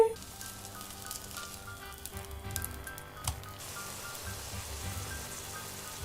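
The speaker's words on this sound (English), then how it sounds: "Now it is time for frying burgers." Vegan Beyond Meat burger patty frying in a pan, a soft continuous sizzle with faint crackles and a few brief clatters early on, fairly quiet and steady.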